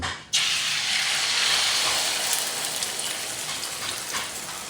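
Eggs for an omelette frying in hot cooking oil, a loud, steady crackling sizzle that bursts in abruptly after a brief quiet start and holds close and continuous with no talking.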